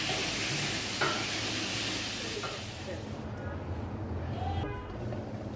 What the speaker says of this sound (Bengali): আলুগুলা হালকা একটু তেলে ভাজা হচ্ছে